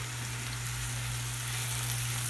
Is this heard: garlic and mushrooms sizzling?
yes